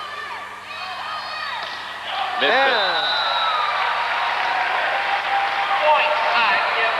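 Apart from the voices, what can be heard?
volleyball crowd cheering in the building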